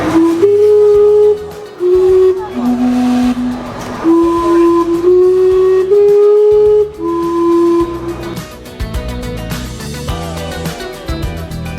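Vancouver's steam-powered clock whistles out a tune on the hour, a series of loud sustained hissing whistle notes rising and falling in pitch, with a final cluster of overlapping tones.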